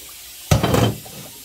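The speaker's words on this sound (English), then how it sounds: "I'm using hot water because I don't want cold water to slow down the process of the cooking" Hot water running from a tap while rice is rinsed in a pot, a short splashing gush that starts abruptly, lasts about half a second, then trails off.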